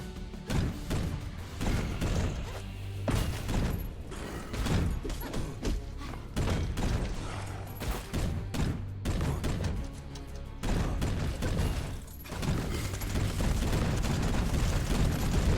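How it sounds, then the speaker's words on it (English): Mortar turrets firing in the Cinderia action roguelite video game: repeated heavy thumping blasts in irregular bursts, moderately loud over game music. "Mortar turret, there goes, we got the turrets"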